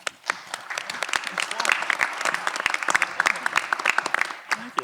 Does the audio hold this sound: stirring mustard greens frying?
no